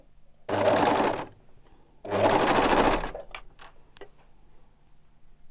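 A four-thread overlock serger stitches fabric for a child's elephant hat in two loud, fast, buzzing bursts of about a second each, followed by a few faint clicks and handling sounds.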